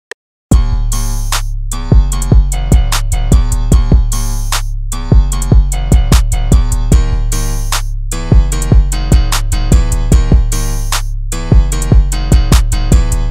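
The full beat with a busy 808 bass pattern hitting very frequently, deep booms stacked under crisp hi-hats, snares and piano stabs in a tight, loud, repeating groove without any talk.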